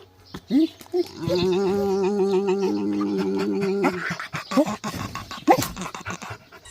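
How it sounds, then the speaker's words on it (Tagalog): A pet dog at home in a yard whimpers and yelps excitedly, then lets out a long, loud, whining howl-like cry before breaking into sharp, noisy barks and yaps close to the microphone. "yung aso ko guys, grabing ingay"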